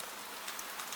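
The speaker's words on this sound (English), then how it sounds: "And still the rain falls." Gentle rain falls at night over an old Edo setting, a dense, even hiss of drops close by with soft pattering accents and no talk.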